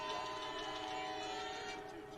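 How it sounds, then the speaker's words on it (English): A train passes in the distance on an evening in Jefferson, near a softball game, its steady droning tones holding faintly and continuously over a low outdoor background for a couple of seconds. "I always hear that train around this time every night at my house."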